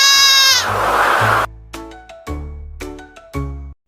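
A goat bleats loudly and close by in a series of short, wavering calls with brief pauses between them, and no voices can be heard.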